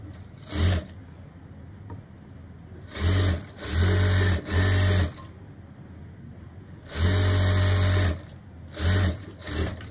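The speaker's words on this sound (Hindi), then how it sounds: "तो फ्रेंड्स सबसे पहले हम सिलाई लगाएंगे, आपको दिखा देता हूँ।" A sewing machine stitches palazzo panels in several separate bursts of mid-loudness running, some short and a couple longer, with quiet pauses between.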